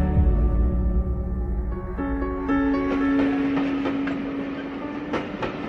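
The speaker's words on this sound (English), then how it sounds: "At the train station" A train rumbles at a railway station, with wheels clattering over the tracks, sustained metallic tones and squeals, and sharp clacks toward the end, loud and close with no talk.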